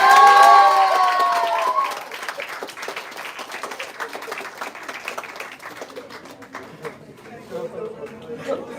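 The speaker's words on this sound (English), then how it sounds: "Now the cheer should be louder because I'm going to invite the star of the show, Katya ma'am, to the stage." Audience at a stage event cheering and applauding as the star of the show is called up. The loud opening burst has whoops and high cheers over dense clapping, then it settles into steadier, thinner applause and crowd chatter.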